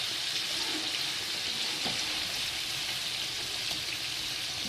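Water is poured into a hot pan of cooking beef steak and masala, making a steady loud hiss and sizzle that holds evenly throughout with no voices.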